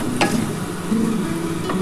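Spices with Kashmiri chili powder and ground green chili being fried and stirred in a pan for a fish curry, a soft sizzle under the scrape of a spoon, with two brief louder scrapes against the pan.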